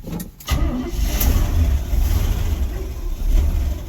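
A classic Chevy's engine cranks briefly, then catches and settles into a steady, loud low rumble as it idles close by.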